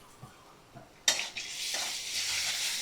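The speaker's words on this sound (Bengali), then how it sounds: "দিয়ে আমি ভালো করে মশলাটা কষিয়ে নেব।" Ginger-garlic and cumin paste hits onions browning in a pan, setting off a sudden loud sizzle after a second of quiet stirring, then a sustained hiss with scraping of the spoon.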